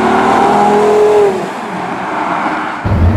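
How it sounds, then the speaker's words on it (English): A Porsche Carrera GT's engine and exhaust wail at high revs, then drop off with a gear change before the note rises again, loud and close like a race car. "but on the outside it sounds like a race car."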